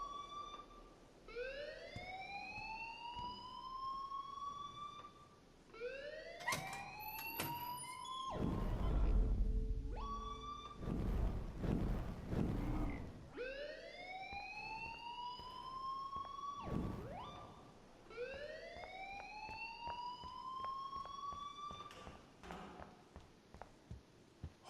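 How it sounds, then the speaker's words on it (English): A wailing siren-like school fire alarm in the game Life is Strange sounds in repeated rising sweeps. A loud, muffled rumbling burst cuts in midway before the sweeps resume at a fairly low level. "please turn off that alarm since that's your job."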